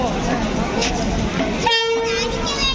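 Rumbling Cholan Express train noise at a busy station with people talking, and a short horn toot sounding partway through.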